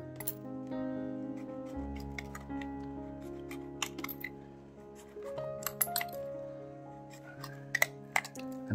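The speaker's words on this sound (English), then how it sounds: "I'm just gonna cut it into ribbons." Scissors snip a plastic card into ribbons in a series of short, crisp clicks that come irregularly and grow busier toward the end, all under steady background music.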